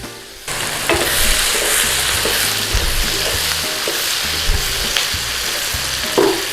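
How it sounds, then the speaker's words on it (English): Onions with salt sauté in a slow cooker pot for chicken stew, giving a loud, continuous sizzle, with a spoon scraping and knocking against the pot at intervals; no one talks. "Stir that in there. That'll help cook the onions, soften them down."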